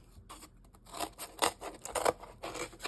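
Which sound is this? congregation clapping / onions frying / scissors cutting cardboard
scissors cutting cardboard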